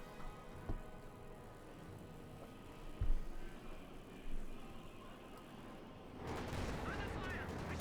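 Browning light machine guns fire in the Company of Heroes 2 battle, with a few sharp reports and short bursts rising over a low rumble of distant combat noise, fairly faint overall.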